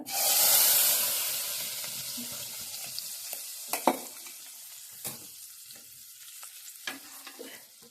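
Red lentils (dal) hit a hot tempering of dried red chillies, curry leaves and turmeric in a pan: a loud sizzling burst that fades into a steady fry, with scattered scraping clinks of stirring.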